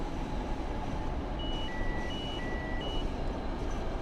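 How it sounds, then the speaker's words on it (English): Train alerter warning beeps in a train simulator video game, a repeating two-tone electronic beep pattern over steady loud cab rumble, with no talking. "It's the alerter."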